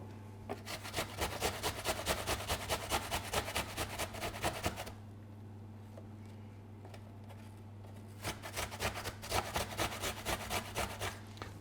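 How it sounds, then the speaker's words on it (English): An apple is hand-grated down to its skin on a grater for a beetroot and ginger relish, giving quick, regular rasping strokes that stop briefly and then resume in the same steady rhythm, close and clear. "the more you grate it, you should just be left with the actual skin of the apple."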